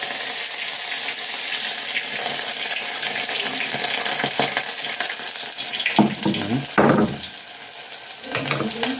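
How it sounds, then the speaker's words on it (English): Onions hit hot cooking oil and fry with a loud, continuous crackling sizzle up close, broken by a few clattering stirs near the end, no one speaking. "what we are gonna do is we are going to pour these onions into the"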